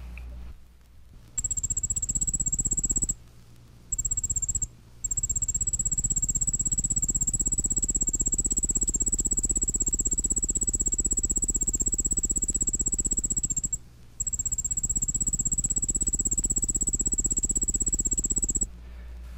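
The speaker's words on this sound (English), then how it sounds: "Striped ground cricket, Nemobius fasciatus fasciatus, begins singing in early July in lawns, pastures, and along roadsides." Striped ground cricket (Nemobius fasciatus fasciatus) trills steadily in a grassy place, a thin high continuous song broken by a few short pauses, clear and fairly close.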